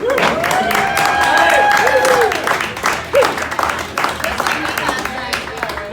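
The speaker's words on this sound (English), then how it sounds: "Keep clapping for fuck's sake." Comedy club audience clapping and cheering as a comedian is called to the stage, a loud crowd under a host's voice and whoops that thins out toward the end.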